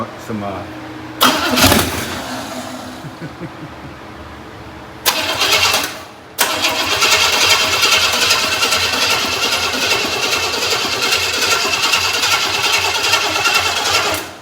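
A Pontiac Safari engine cranks in short bursts without catching, the starter whirring loudly up close, followed by a long stretch of steady mechanical noise, with people talking over it.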